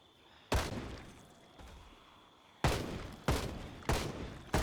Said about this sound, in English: Let's see what the rifle's like at close range.